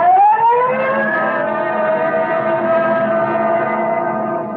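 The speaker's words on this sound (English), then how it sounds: "Code 3, red light and siren." A police car siren from a radio drama swoops upward at the start, then settles into a steady, loud wailing tone that holds for several seconds and stands alone with no talking.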